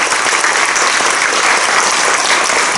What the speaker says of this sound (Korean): 우리 네 분 후보에게 다시 한번 뜨거운 박수 한번 해주시면